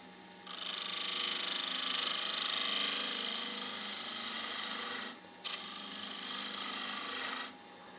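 A 12mm bowl gouge cuts into the foot of a wooden bowl spinning on a lathe, making a close, steady, hissing rasp of shaving wood. The cut pauses briefly once and ends shortly before the clip finishes.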